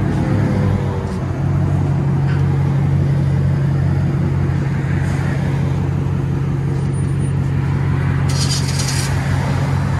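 A 2010 Chrysler 300 C with a 5.7L HEMI V8 and true dual exhaust with straight pipes gives a steady, loud, close-up low rumble that holds evenly for about ten seconds.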